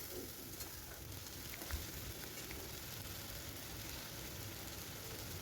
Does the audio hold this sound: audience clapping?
no